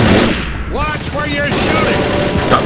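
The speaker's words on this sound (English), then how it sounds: "Watch where you're shooting! Stop shooting me, alright?" Rapid automatic gunfire in the zombie shooter game Left 4 Dead, loud bursts of shots layered with game voices and chatter, a near, harsh clatter that carries through most of the stretch.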